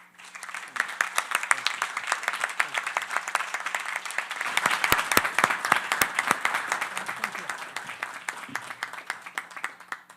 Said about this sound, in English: you heard the incredible warmth in that applause